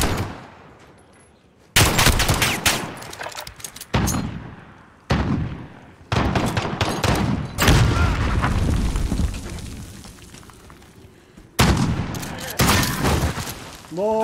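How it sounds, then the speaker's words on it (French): Shotgun gunfire in a multiplayer shooter video game: heavy, booming blasts in separate bursts with gaps between them, loud and close, with someone talking in French between shots. "c'est vraiment un fusil à pompe avec"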